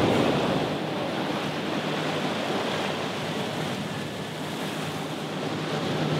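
Wake from a passing large police boat on a Dutch waterway, a continuous close wash of waves and surging water with wind rush, steady and loud with no talking.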